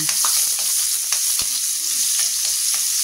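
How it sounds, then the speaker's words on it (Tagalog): Garlic sizzles in hot cooking oil while chicken adobo is prepared, giving a loud, steady frying hiss with faint crackles and occasional stirring clinks close by. "Mag-isa ka daw ng mantika sa bawang."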